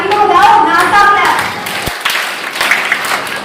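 A group of children claps hands in dense, steady applause at a Jain children's education camp, the clapping continuing while voices call and chatter over it.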